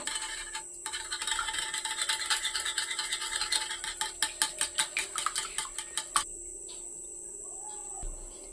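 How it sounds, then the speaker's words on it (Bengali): Eggs for fish fingers beaten briskly in a bowl, a fast rhythmic clatter of utensil against the dish that grows into distinct strokes before stopping, over a steady background hum. "ভালো করে ডিমগুলো ফাটিয়ে নেব"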